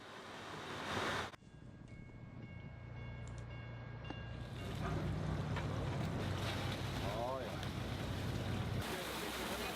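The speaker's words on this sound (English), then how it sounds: "the boat one of these trucks is intended for is making its way up" A boat motors up the Sacramento River, its engine a steady low drone beneath wind buffeting and water wash, growing louder and fuller after the first few seconds.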